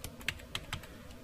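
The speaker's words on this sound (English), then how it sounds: "So I'll type large for the size," Typing on a computer keyboard: a handful of soft, irregular key taps close by and faint, with no talking.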